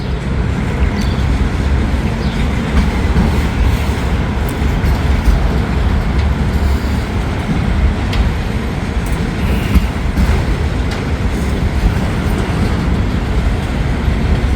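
A train, M506, creeps along the tracks at under ten miles an hour, a steady, close rumble of wheels and cars with faint clatter, constant throughout with no talk.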